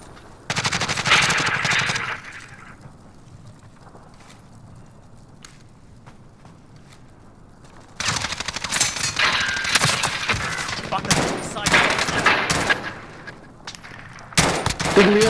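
Call of Duty Modern Warfare gunfire: loud bursts of automatic and single shots from about 0.5 to 2.5 seconds, a quieter lull, then dense sustained firing and impacts from 8 seconds to the end.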